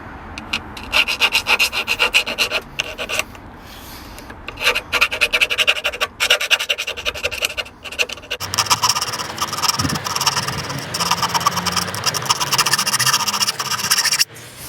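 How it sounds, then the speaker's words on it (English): A hand file rasps back and forth in quick repeated strokes, deburring a freshly drilled hole in a VW T5.1 van body, with short pauses between bursts, close and fairly loud. "I'm just going to give the hole a little file, get rid of some of the burrs on it"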